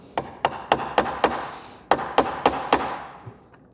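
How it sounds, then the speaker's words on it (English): Steel punch struck repeatedly with a hammer against a rounded starter motor bolt head: sharp metallic taps, five in a steady rhythm, a brief pause, then four more, close and clear with ringing decay. "You want the punch to bite into the head of the bolt initially."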